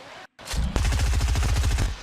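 Rapid automatic gunfire in the video game Fortnite, a dense, loud burst of evenly spaced shots that follows a brief silent gap and runs steadily to the end.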